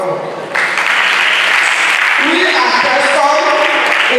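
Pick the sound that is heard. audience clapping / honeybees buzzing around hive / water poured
audience clapping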